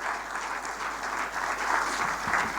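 Sustained audience applause at a conference welcoming a keynote speaker, a dense steady patter of many hands clapping throughout, fairly loud and continuous with no talk over it.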